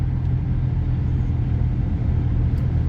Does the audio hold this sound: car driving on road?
yes